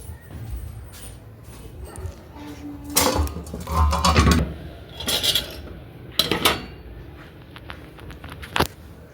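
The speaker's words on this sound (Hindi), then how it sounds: "तो हम बर्तन रखते हैं अंदर।" Dishes, pots and metal utensils clatter and clank in several loud bursts as they are carried in and put away at home, with soft talk in between.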